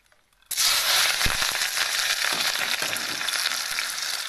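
Hot cooking oil in a pan bursts into loud, close, steady sizzling and crackling after a brief silence, then keeps hissing evenly through the rest, with no talk.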